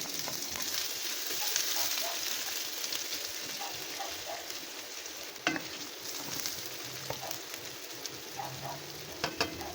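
Onion and ginger sizzle and crackle steadily in a hot pan, with occasional stirring scrapes and soft pops throughout, no voices.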